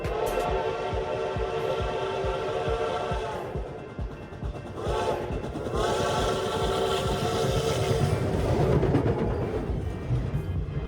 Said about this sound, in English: As the train goes by, you can actually see the water start to ripple from the vibrations of the train.